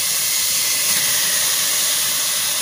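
Pork meat searing in a hot pot with no oil while sinigang is being made, giving a steady loud steamy hiss with no break throughout.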